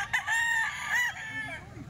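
A rooster crows once, close and clear, at a poultry market, with a drawn-out call over a low bed of clucking and crowd murmur.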